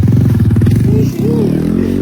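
Yamaha R15 motorcycle on a road near a bridge in Bihar, its engine running loud and close with a steady throb and a brief dip midway.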